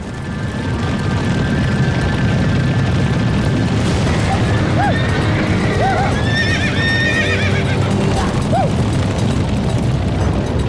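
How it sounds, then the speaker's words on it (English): Heavy galloping hooves pound continuously in a dense, loud rumble, with occasional animal whinnies and cries rising above the thundering herd. "Teddy Blue hears what every cowboy dreads: stampede."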